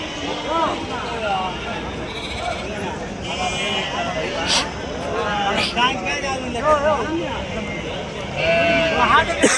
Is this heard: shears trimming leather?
no